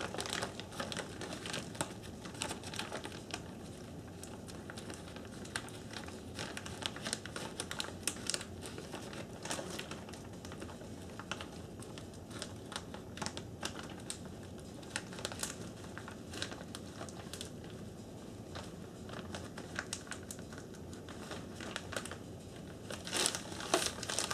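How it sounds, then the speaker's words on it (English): A Ziploc bag crinkles and rustles continuously while bacon is being prepared, a steady close-up plastic crackle with sharp irregular snaps that lasts throughout, with no talking. "I'm trying to clean off the Ziploc so that I can actually close this now"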